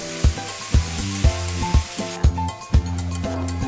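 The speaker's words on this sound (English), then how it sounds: "Deglaze with a little bit of wine." Mushrooms sizzle in butter with thyme and garlic while wine goes in to deglaze, giving a steady hiss with a sharp thump about every half second, set against background music.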